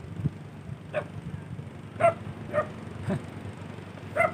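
A dog gives a series of short, moderately faint barks at uneven intervals, five or so in total, over a steady low hum.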